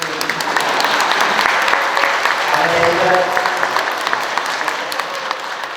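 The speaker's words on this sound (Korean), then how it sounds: "근데 이런 얘기를 하면 좀 박수를" Audience applause fills a church hall during a parish event, a steady dense clatter of many hands close by, with voices murmuring underneath and a brief swell partway through.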